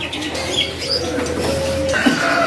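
A caged jopin songbird at a bird-selling kiosk gives short tonal calls and soft cooing notes over a busy background murmur, with faint voices nearby.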